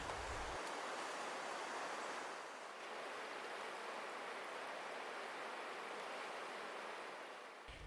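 A swift river current rushes in a steady broadband wash, continuous and fairly faint, with no voices over it.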